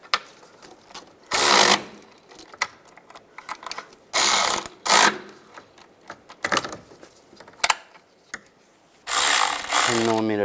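A ratchet with a 10mm socket tightening bracket bolts on a 2007-2018 Jeep Wrangler valve cover job, loud bursts of rapid clicking pawl separated by quieter handling clatter, close up.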